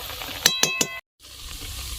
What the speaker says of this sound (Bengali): চৌকোগুলো যেহেতু পাতলা তাই সময় কম লাগবে ভাজতে একটু ভাজার পর আমি উল্টিয়ে দিব